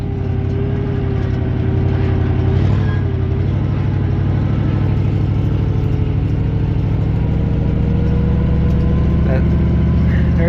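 A 1967 Chevy C40 truck drives empty with its engine droning steadily, a loud low rumble with a constant pitch and mechanical whine, heard close from inside the cab.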